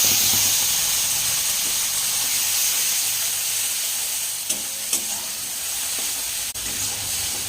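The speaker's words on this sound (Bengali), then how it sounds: "ওই কড়াইতেই আমি দিচ্ছি কালো জিরে কালো জিরেটা একটু ভাজা ভাজা হয়ে গেলে" Nigella seeds sizzle and hiss in hot oil in a wok while cooking prawn-paste potol, a steady close frying crackle with a few brief sharp pops and clinks.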